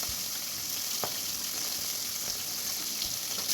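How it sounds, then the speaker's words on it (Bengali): Katla fish pieces, rubbed with salt and turmeric, frying in hot mustard oil in a kadai, giving a steady close-up sizzle throughout with a few faint clinks of stirring. "আগে থেকে নুন হলুদ মাখানো মাছটা আমি তেলের মধ্যে ভেজে নেব"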